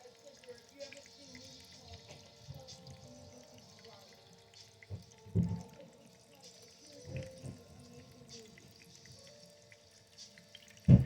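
Water runs through a small gold high banker processing pay dirt, a soft continuous trickle with drips and occasional louder splashes and knocks, fairly quiet and close.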